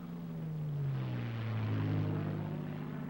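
P-51 Mustang propeller fighter plane in a dive, a loud droning engine roar whose pitch slides steadily downward over a few seconds, with a broad rushing rumble underneath.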